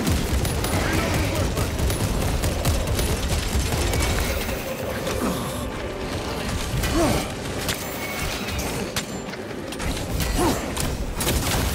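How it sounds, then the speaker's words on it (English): In Warhammer 40k Space Marine 2, a frag grenade blast lands amid heavy gunfire and clanking mechanisms, with rapid shots and booms loud at first, thinning briefly, then picking up again. "Throwing frag grenade!"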